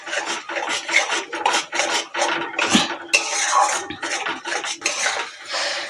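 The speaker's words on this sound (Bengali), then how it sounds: "সেই টক দইটা দিয়ে আর 1 মিনিট আমি আস্তে ধিমে আঁচে নেড়ে নেব" Sour yogurt and spice masala thickened with gram flour, stirred in a pan over low heat for a fish curry, heard as rhythmic, rasping scrapes of a spoon against the pan, close and loud with no talking.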